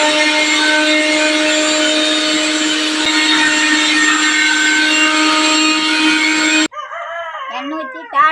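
A kitchen mixer grinder grinds curry leaves with salt for a pickle, giving a loud steady whirring hum for several seconds before cutting off abruptly; a rooster then crows nearby.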